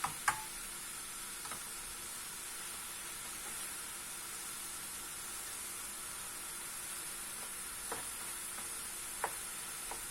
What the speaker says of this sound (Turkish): Şöyle iyice kavurayım elmalarımı.